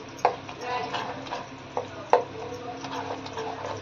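Semolina batter with Eno fruit salt being stirred in one direction in a bowl, a steady scraping swirl with a couple of sharper knocks of the spoon against the side, close and fairly quiet, with no talking.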